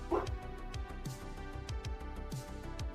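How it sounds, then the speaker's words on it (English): Several dogs bark repeatedly in short, irregular bursts, some yips mixed in, fairly close and loud, set off by a passing diesel vehicle on a road outside. "drove the dogs crazy and they started barking"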